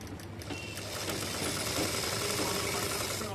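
Stitching blouse lining with long stitches, a sewing machine runs continuously at close range, a steady whirring motor hum with a faint mechanical rattle.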